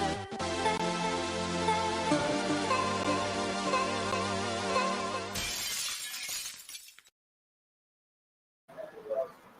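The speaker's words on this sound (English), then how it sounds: "I love that sound every time it goes on the broken glass" A glass-shattering sound effect plays as a bright, dense crash with a ringing tonal tail that spreads for several seconds, then cuts to silence before a brief return of sound.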